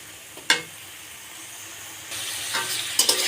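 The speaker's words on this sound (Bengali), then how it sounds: "এখন এটাকে আমি ভালোভাবে কষাবো" Ginger and cumin paste masala being sautéed in a pan, a soft sizzle with sharp clanks of a utensil against the pan, growing louder and busier toward the end; no speech.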